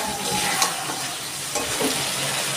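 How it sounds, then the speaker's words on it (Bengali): Pointed gourd koftas are stirred into a spiced masala in a pan, a steady close sizzle with occasional soft scrapes and knocks of the spoon. "এবার আমি দিয়ে দিচ্ছি পটলের কোপ্তাগুলো, দিয়ে মশলার সাথে একটু নাড়াচাড়া করব।"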